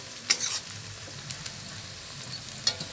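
Onions browning in a pan, partly covered, for a tripe (bhuri) fry: a steady close sizzle with a few sharp stirring clicks and scrapes, and no voices.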